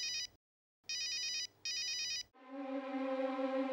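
Telephone ringing in short electronic trill bursts, two rings with a pause, then a steady hum takes over.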